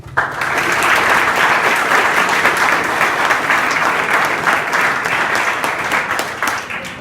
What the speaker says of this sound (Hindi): तो एक जोरदार ताली आप अपने प्रिंसिपल साहब के लिए कर दे, सूरज पाठक जी के लिए